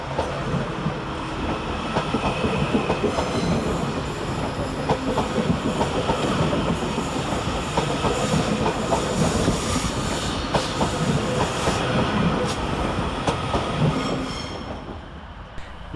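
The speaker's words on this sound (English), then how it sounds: "Next train out to depart is 397-010, working the 1328 Transpennine Express service from Glasgow Central through to Liverpool Lime Street." A train rumbles through Carlisle railway station, a loud, continuous roar of wheels and rolling stock with faint squeals on top, holding steady before easing off in the final seconds.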